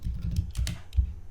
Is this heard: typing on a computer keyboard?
yes